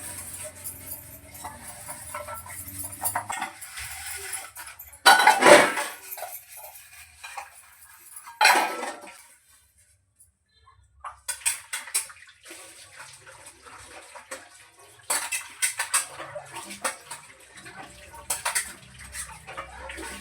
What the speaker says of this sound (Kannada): ಪಾತ್ರೆ ಇದ್ದಾವೆ, ಪಾತ್ರೆ ತೊಳಿಬೇಕು.